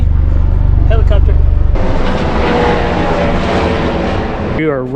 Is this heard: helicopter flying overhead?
yes